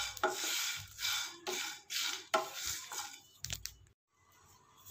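Curry leaves dry-roasting in a pan, stirred with a spatula in a series of crisp, rustling, scraping strokes with short pauses between, close and fairly quiet with no talk.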